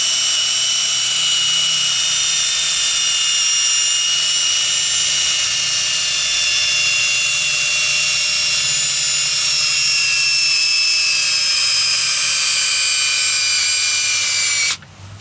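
A polishing pad machine works a stain out of chrome trim, giving a loud, steady high-pitched whine that runs unbroken for about fifteen seconds before cutting off abruptly at the end.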